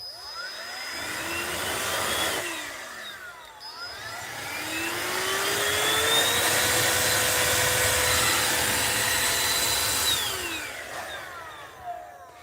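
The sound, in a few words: battery-powered blower running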